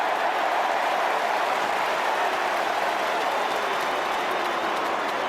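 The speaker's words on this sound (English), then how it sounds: "And again, the crowd find voice" A large crowd roaring and cheering at an Australian football match between Port Adelaide and Carlton, a dense, loud, continuous wash of noise that holds steady for several seconds.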